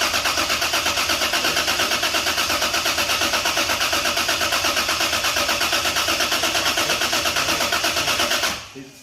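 A Lexus IS300 GTE engine cranks without starting with the fuel disconnected: a loud, close, steady rhythmic whirring of the starter for about eight seconds before it winds down and stops.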